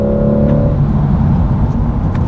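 A Chevrolet C8 Corvette accelerates in fourth gear on a racing school track, its engine a loud, steady droning roar heard from inside the car, with a brief tonal whine early on.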